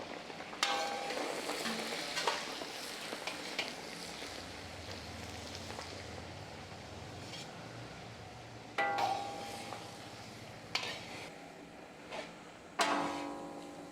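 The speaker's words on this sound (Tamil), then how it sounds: "நல்லா கிளறி விடணும் நல்லா கிளறி விடும்போது பார்த்தீங்கன்னாக்க கொழுப்பில் எல்லா மருந்தும் மிக்ஸ் ஆகிடும்" Herbal powder being stirred into hot fat in a pan gives a steady low sizzle with scraping and a few sharp clangs of the spoon against metal, close and without speech.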